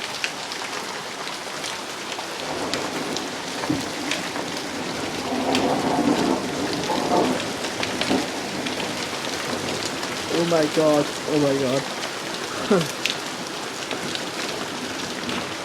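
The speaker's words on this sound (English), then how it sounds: "It's hailstones, thunder, and lightning" Heavy rain and hail pelt down steadily through a Dumfries thunderstorm, loud and continuous, with a brief low rumble; a voice speaks excitedly over the downpour.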